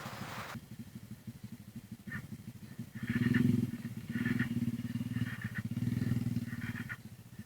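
A motorcycle engine cranks and sputters in repeated short bursts, trying to catch, with a steady rattling putter between attempts; fairly close, no voices.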